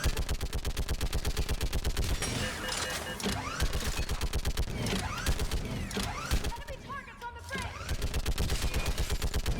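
Mounted gun in the game Mass Effect 3 fires in long, steady rapid bursts, loud and dense, with brief mechanical clanks and pauses in the middle before the rhythmic fire resumes.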